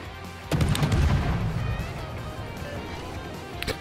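The Polish destroyer Blyskawica in World of Warships fires a loud, close naval gun salvo that booms once and then rumbles away into a long fading tail. A faint second crack follows near the end.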